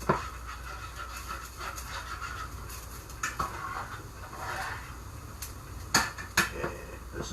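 Spoon stirring rice, mushrooms and peas in a pot, with intermittent scraping and clinking of utensil against metal over steady background cooking noise, a couple of sharper knocks near the end.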